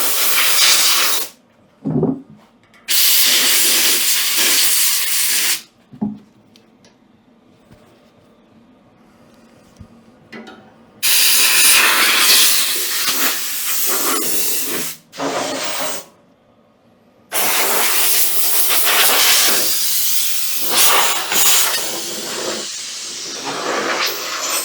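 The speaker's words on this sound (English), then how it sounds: "I'm gonna try to blow some of this dust out of here." Air blown through a 185,000 BTU kerosene heater to clear dust out, loud close hissing bursts of varying length separated by short silences, several blasts over roughly twenty-five seconds.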